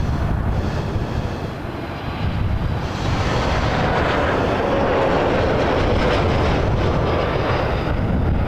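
A jet airliner lands at Toronto Pearson Airport after dark, its engines giving a loud, continuous, rumbling roar that swells slightly and holds throughout, with no talking.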